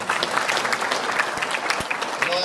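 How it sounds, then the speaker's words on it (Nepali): Audience at an association board meeting applauding, brisk crowded clapping with sharp individual hand claps standing out, steady and fairly close throughout. "यहाँहरू सबैको निम्ति एकपल्ट जोरदार ताली"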